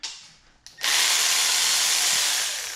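A power drill or impact tool zips out a bolt from a 2009 Pontiac G8 engine during teardown, a short faint lead-in followed by a loud, steady whir held close for about two seconds.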